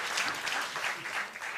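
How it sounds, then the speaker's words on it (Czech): Audience applause at a panel session of a forum, a faint, steady wash of many hands clapping at a distance, with no voices over it. "poprosím potlesk"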